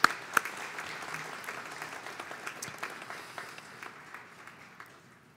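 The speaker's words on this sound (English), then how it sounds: "Let's give Michelle a round of applause." Audience at the Coconino Community College 2022 Arts & Sciences commencement ceremony gives a round of applause, with steady crowd clapping that gradually fades over about five seconds.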